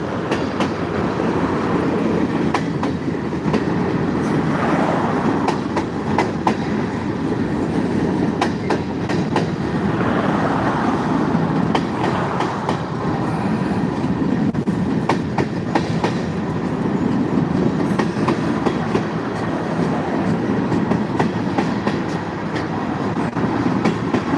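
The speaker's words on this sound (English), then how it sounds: "Oh, I see the end of the train now." A train rumbles steadily past, with continuous rolling wheel noise and faint rhythmic clacking throughout, loud and close.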